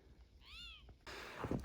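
A single clear cat meow, rising then falling, followed by faint rustling nearby.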